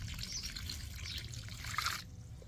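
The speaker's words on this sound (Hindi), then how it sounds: "अब मैं इसके अंदर बाकी बचा हुआ पूरा पानी ऐड कर देता हूँ।" Water is poured into khaman batter in a bowl, a steady, close trickle and splash running for about two seconds before stopping abruptly, with no talking.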